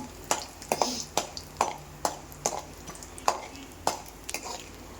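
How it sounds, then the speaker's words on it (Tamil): Urad dal frying and being stirred in a pan: a dozen or so sharp utensil scrapes and taps at an uneven rhythm over a faint sizzle, fairly close, with no talking. "இப்போ அது ரெண்டும் ஒரு அளவுக்கு செவந்து வரணும். அது வரைக்கும் இதை ஃப்ரை பண்ணுற மாதிரி பண்ணிக்கோங்க."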